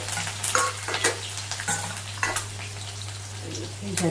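Oil sizzles and crackles steadily as curry leaves fry with cumin seeds and a clove, with a few clinks and scrapes of a spoon against the pan. No one speaks.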